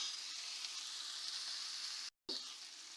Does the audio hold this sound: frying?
yes